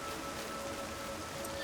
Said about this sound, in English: when it's raining, it's going to be harder for things to spot me